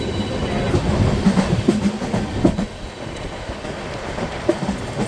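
Yoga Express 19032 passenger train running on rails, heard from inside as a steady rumble with rhythmic clickety-clack of wheels over joints, continuous and moderately loud throughout.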